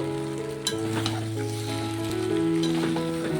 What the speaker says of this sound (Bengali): আলুটাকে দিয়েও একদমই আমি কষিয়ে নেব।